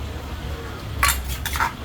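A couple of brief metallic clanks and scrapes of a pot being handled at a som tam food stall at a night market, close by, over a low background hum.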